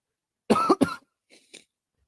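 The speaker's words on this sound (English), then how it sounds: "you guys don't want to hear me coughing all the time" A person coughs twice in quick succession, then a couple of softer, fainter coughs follow after a short pause.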